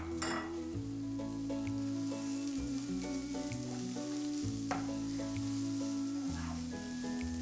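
Chopped onion frying in a pan for a leek quiche, a soft continuous sizzle running beneath louder steady background music throughout.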